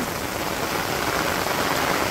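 Rain keeps falling over a Bangladeshi village in a soft, continuous wash of drops, moderately quiet and unbroken, with no one talking.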